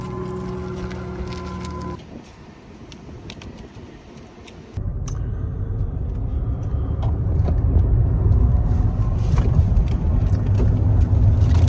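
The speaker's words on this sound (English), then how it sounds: "That's the Audi E-Tron." An Audi E-Tron electric car drives on a test track, its steady road and wind roar dropping briefly and then jumping to a louder, sustained rush that builds gradually.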